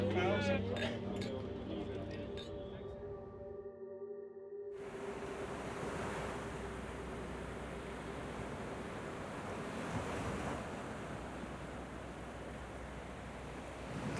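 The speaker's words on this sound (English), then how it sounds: "The big waves! The big waves!" Big ocean waves break at Nazaré in a continuous, broad roaring wash with surges, heard from a distance with wind noise on the microphone after a short stretch of tonal sound at the start.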